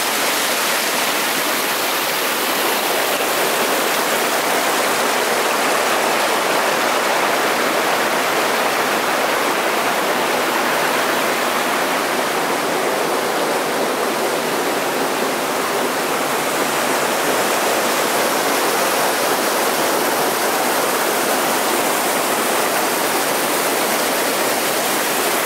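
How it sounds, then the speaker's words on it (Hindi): Water rushes steadily downhill over rocks at Netarhat, a broad, constant close-up roar with no breaks and no voices. "ये देखिए यहाँ पर काफ़ी नीचे पानी बह रहा है"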